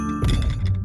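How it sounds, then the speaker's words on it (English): Heavy cartoon footsteps thud close by in a few quick low booming steps, with no voices over them. "That's the sound of big feet."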